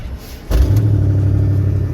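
An old Dodge Ramcharger engine cranks and catches at about half a second, then settles into a loud, steady low rumble with a rough, uneven idle.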